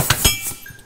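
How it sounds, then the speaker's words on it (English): A Walker shock absorber gives a couple of sharp metallic clunks and clinks in quick succession as it extends, close and brief, followed by fainter rattling. "This is the extension noise that you hear in a Walker."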